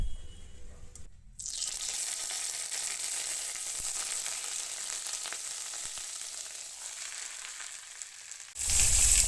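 Semolina-coated masala fish, rubbed with salt, turmeric and chilli, frying in hot oil: a steady loud sizzle starting abruptly after a brief pause and running continuously, then cut off near the end by a louder burst.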